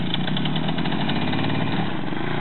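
A Romet motorcycle engine running steadily as a first-time rider tries to pull away, a close, even, buzzing putter with no talk over it.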